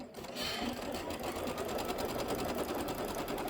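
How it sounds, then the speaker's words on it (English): A sewing machine runs steadily for several seconds after being started, its rapid, even stitching rattle loud and close with no pauses. "And then I can just go ahead and hit start."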